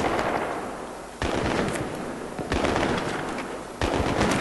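Rapid bursts of automatic gunfire in the video game Battlefield 3, a dense, loud rattle broken into several volleys with brief gaps and sharp restarts, no voices.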